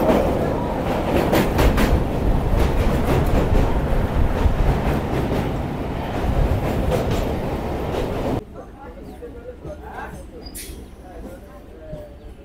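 Sealdah–Dankuni local train running near Dakshineswar and the Ganga, a loud continuous rumble with rhythmic wheel clatter from inside the carriage, which cuts abruptly to a much quieter interior with faint sounds.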